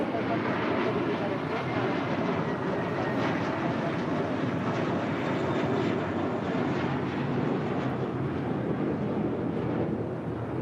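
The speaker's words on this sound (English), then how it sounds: "United Airlines Flight 1584 coming up from Jackson. It's an A319." A United Airlines Airbus A319 arriving at LAX gives a continuous, dense engine roar that stays loud and even throughout.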